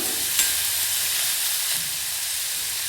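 Chopped onions sizzle steadily in hot oil with crackling mustard seeds and cumin, a loud continuous frying hiss with a couple of faint stirring scrapes.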